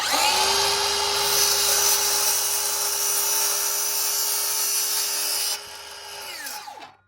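A Bosch 7 1/4-inch compound sliding miter saw spins up to a steady high whine and cuts through wood, then the motor winds down over its last second or two, loud and close with no talk.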